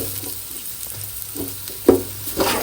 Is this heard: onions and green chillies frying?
yes